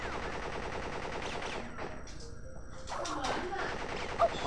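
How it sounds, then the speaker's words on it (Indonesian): Rapid bursts of automatic machine gun fire in the Crash Bandicoot video game crackle almost continuously during a boss fight, with a brief lull midway before the shooting resumes, all fairly loud and close. "Apa machine gun gitu."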